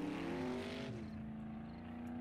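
Car engine accelerating in the video game 7 Days to Die, a steady rising motor drone that holds loud and close throughout, its pitch climbing then leveling off.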